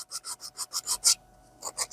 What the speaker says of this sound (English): It's a 400 grit sandpaper.